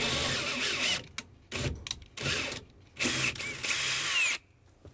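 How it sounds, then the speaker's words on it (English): Electric drill with a 3/16 bit boring through sheet metal under the dashboard of a 1965-66 Impala, several short whirring bursts separated by pauses, close and fairly loud with no talking. "We wanna drill this one out, the one closest to the driver's side."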